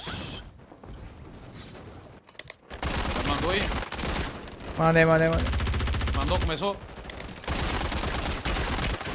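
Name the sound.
gunfire in the video game Call of Duty: Warzone 3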